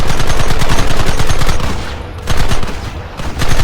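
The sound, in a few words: gunfire in Red Dead Redemption video game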